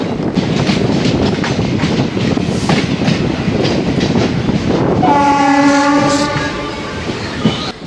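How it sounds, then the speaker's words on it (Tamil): An express train running from Thiruvarur to Villupuram pulls out of Chidambaram station, its steady rumble and clatter filling the air before a long, loud horn blast sounds up close. "சிதம்பரம் ரயில்வே ஸ்டேஷன் வண்டி கிளம்பி போயிட்டு இருக்குதுங்க."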